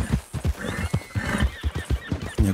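Missouri Foxtrotter horse in Red Dead Redemption 2, with rhythmic hoofbeats clip-clopping close by at an even gait and a brief whinny on top.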